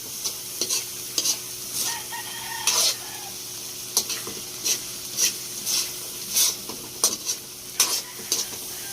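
Banana pith cooking down in thick coconut milk with chillies sizzles softly in a pan while a spoon scrapes and knocks against it in a steady, repeated stirring rhythm, with a rooster faintly crowing in the distance.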